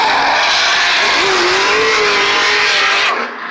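Formula Drift cars drifting at a competition in St. Louis, a loud, sustained roar of a close engine at high revs mixed with tire squeal and a broad rush of noise, fading slightly at the very end.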